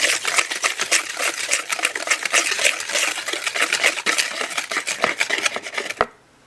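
Sugar is whisked into a breakfast batter mixture in a bowl, producing fast, rhythmic scraping and tapping strokes up close, which stop abruptly near the end.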